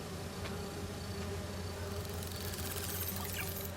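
Virtual bee wolves in the Spider-Man 2 video game give off a faint, steady insect buzz under a low ambient hum.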